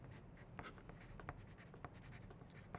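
Pencil scratching across a paper character sheet for a Dungeons & Dragons game, a steady run of soft, close strokes with a few sharper taps as the writer fills in an entry.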